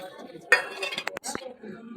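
A spoon stirs white cumin and fennel seeds in a cooking vessel, producing a quick cluster of close metallic clinks and scrapes over about a second, with a short quiet stretch before and after.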